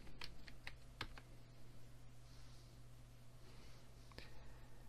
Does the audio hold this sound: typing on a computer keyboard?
yes